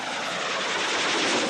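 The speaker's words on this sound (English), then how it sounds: "Notice that the relatively low noise generated by the SX-255 does not include the blade slapping sound so commonly associated with most shaft-driven helicopters" Voljet SX-255 tip jet (pressure jet) helicopter with no tail rotor or transmission, a loud, continuous, steady jet roar and rotor noise without blade slap, heard alone.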